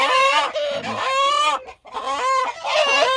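Chickens in a coop cluck and squawk loudly up close in long, urgent bursts as a young rooster is caught, with a brief pause between calls.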